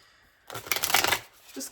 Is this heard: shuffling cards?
yes